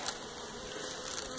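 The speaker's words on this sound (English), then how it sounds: "got some bees down there, bees up here" Bees buzzing steadily and continuously nearby, a dense insect drone with no gaps, heard alone.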